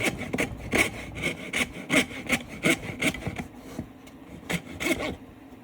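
A coping saw cuts through wood along a marked line, its rhythmic back-and-forth strokes rasping loudly and close at a steady, slightly uneven pace.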